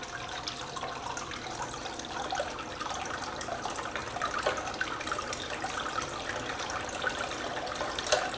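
Water runs steadily across a Royal Manufacturing gold dust concentrating table, a continuous close, even wash and trickle with no break in the flow.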